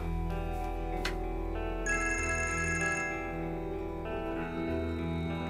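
A mobile phone ringing in a quiet room, a steady electronic ringtone melody with repeating tones, loud and close, playing alone without speech.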